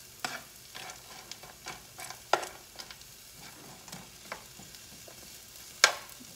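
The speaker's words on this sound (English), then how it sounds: "But my purpose of this is cooking the spices." Spices and onions sauté in oil in a pan, a low steady sizzle with repeated stirring scrapes and a couple of sharp utensil clacks, heard close with no speech.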